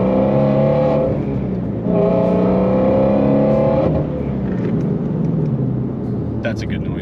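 A supercharged Ford Shelby GT350 engine revs to roughly 4,500 RPM in loud, sustained pulls with a falling drop between them, then settles toward a steady idle-like rumble near the end.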